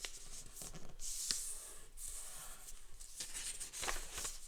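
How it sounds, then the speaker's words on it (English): Sheet of paper folded into a cross and creased for an origami crane, with soft rustling and sliding crease strokes coming in several close bursts, quiet and alone. "we'll fold it in half again, the other way around, so making a cross"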